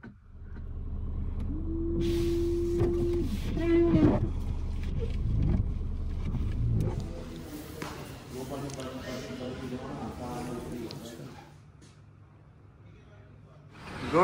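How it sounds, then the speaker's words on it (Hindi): A car engine cranking and failing to start on a freezing, snow-covered morning, the starter grinding in uneven bursts up close while someone talks over it. "गाड़ी स्टार्ट ही नहीं हो रही है,"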